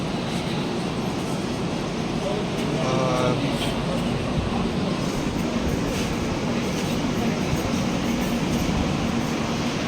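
At Bareilly Junction railway station a train rumbles past close by with a loud, continuous rolling roar and clatter that holds steady throughout, with a brief squeal mixed in.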